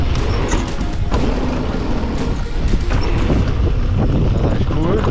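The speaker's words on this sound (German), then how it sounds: "Jetzt aber ganz windig, ey." Loud, buffeting wind roars across the microphone in gusts while mountain biking at the Willingen bike park, a dense rumbling rush that barely lets up.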